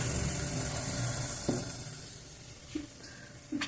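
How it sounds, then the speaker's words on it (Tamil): Chana dal frying in hot oil along with mustard seeds and urad dal as a South Indian tempering, giving a steady, moderately close sizzle with a few brief pops and stirring scrapes, with no talking. "கடலைப்பருப்பு பொரிச்சு கொட்டுறது"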